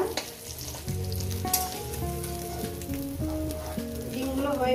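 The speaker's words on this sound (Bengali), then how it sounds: "ডিম ভাজাটা হয়ে গেছে আমার, এটা উঠিয়ে নিলাম" Eggs fry in hot oil in a pan for egg curry, making a steady sizzle that sits under louder tonal background music.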